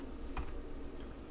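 Typing the update-grub command on a computer keyboard, a few faint key clicks, one sharper tap near the start, over quiet background noise.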